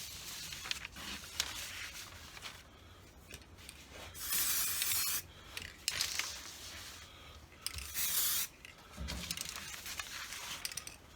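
Aerosol spray can hissing in short and longer bursts while painting a small Microaces Sopwith Pup model aircraft, several separate sprays close by with quiet pauses between.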